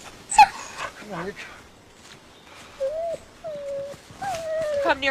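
A dog whimpers in rising, whining yelps with a sharp bark near the start, then long high whines, close and fairly loud amid tense moments of people speaking.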